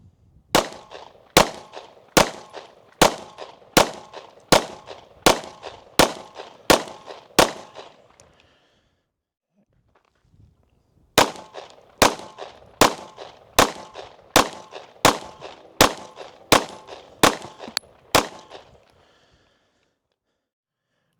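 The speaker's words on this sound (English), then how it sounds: "I went back and shot 2 more 10-shot groups" Pistol shots from a new handgun fitted with a Zerohawk EM1 red dot optic, fired in two strings of ten evenly spaced sharp cracks with a short pause between strings, loud and close with no talking.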